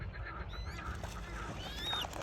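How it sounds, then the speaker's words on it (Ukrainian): A few thin, high squeaks from a young duck sound faintly over low background rumble, brief and scattered. "Каченятка вже доросла, але пищить."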